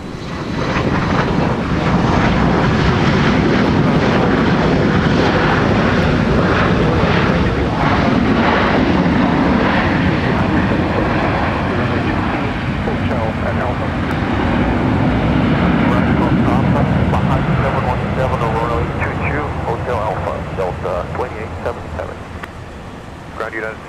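A fixed-wing aircraft lands on runway 30 left at MSP Airport, its engines roaring loud and steady throughout before easing off near the end, under a constant wind-like wash with radio voices faintly mixed in.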